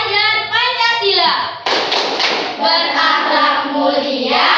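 A standing sixth-grade class in an Indonesian classroom performs a clapping rhythm chant: bursts of hand claps and taps mix with chanted and spoken voices, close and fairly loud.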